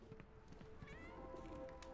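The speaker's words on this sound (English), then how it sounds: "There's a kitty. Meow. Meow. Meow." A cat meows in the video game Sherlock Holmes: The Awakened, a faint, short mew over a steady, low-level game background with no talking.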